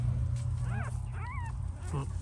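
A newborn puppy from an overnight litter whimpers in thin, rising-and-falling squeaks, a few short cries spaced apart over a steady low background hum.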